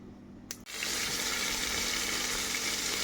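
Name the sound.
onions frying in oil in a pressure cooker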